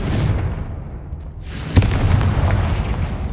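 A Confringo blasting spell explodes in the video game Hogwarts Legacy, a sharp booming burst that cuts in suddenly, then a crackling roar that lingers loud for a couple of seconds over low background rumble.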